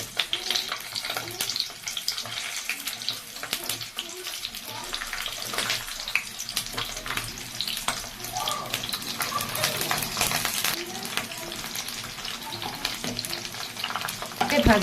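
Capsicums frying in a spoonful of oil give a continuous crackling sizzle, loud and close, with scattered pops and spatters throughout.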